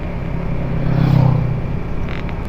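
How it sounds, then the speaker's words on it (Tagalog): Steady low engine drone of a Suzuki Raider 150 Fi motorcycle on the road toward Cardona Public Market in the late afternoon, swelling briefly mid-ride and then settling, with no talk. "Itong Raider 150 Fi natin, sa mga ganito ko lang madalas nagagamit ito."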